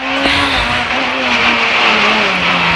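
Rally car at full effort on a special stage of the 2009 Rallye Monte-Carlo in the mountains above Nice: a loud, close engine holds a strained high drone, dipping and climbing through gear changes, with hissing road and tyre noise throughout.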